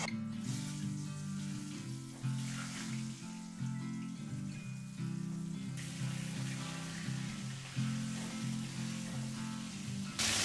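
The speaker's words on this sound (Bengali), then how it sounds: "মাছের তেলে পটলটা ভেজে নেব" Pointed gourd (potol) pieces frying in leftover fish oil in a pan, a steady, close, dense sizzle that holds evenly throughout with no talking.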